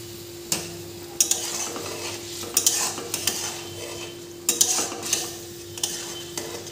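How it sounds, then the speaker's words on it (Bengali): Chicken balls dropped one after another into simmering gravy, each landing as a sharp splash or clink over a low, steady bubbling simmer, several in an irregular rhythm, close and without talk. "এবার চিকেন বলগুলো আমি ঝোলের মধ্যে ছেড়ে দিলাম।"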